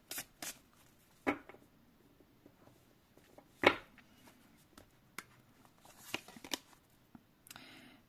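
Oracle cards are shuffled and handled in a few sharp, quiet flicks and riffles, separated by pauses with faint rustling.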